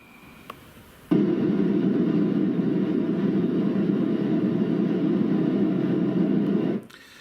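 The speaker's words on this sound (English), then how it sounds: "C-130 firing off some flares there" A C-130 transport aircraft firing off flares: a steady, dense engine drone starts abruptly, holds at an even level for several seconds, then cuts off sharply.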